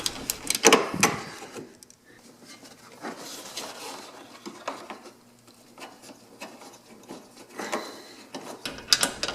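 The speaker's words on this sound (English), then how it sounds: "I'm going to take out the screw right here." A screw being backed out of the front bumper cover bracket on a second-generation 2013+ Ford Fusion, close rasping and scraping bursts at either end with quieter rubbing between, no talking.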